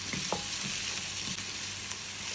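Garlic and ginger fry in a pot with a dense, continuous sizzle close by, broken by occasional soft stirring knocks.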